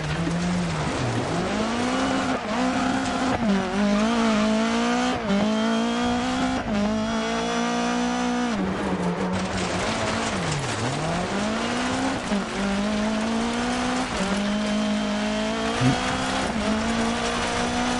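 A rally car in the Dirt Rally 2 racing game, its engine revving steadily with rising and falling pitch through gear shifts, loud and continuous for the whole stretch, with tire noise underneath and no talking.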